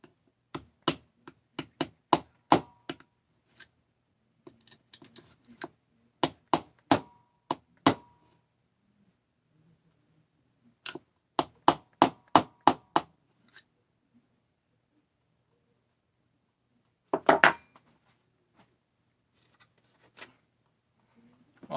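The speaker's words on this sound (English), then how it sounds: "Yep, you can hammer on that just fine." A Stihl 200T chainsaw head is tapped into place with a hammer, using a bearing as a flat striking surface. Sharp metallic knocks come in quick bursts separated by pauses of silence, close to the microphone.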